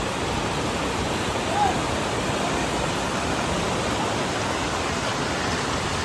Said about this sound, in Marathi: बघू शकताय बघा पाणी किती या पुलावर